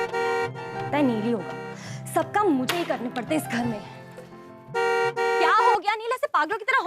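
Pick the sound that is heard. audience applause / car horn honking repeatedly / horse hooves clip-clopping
car horn honking repeatedly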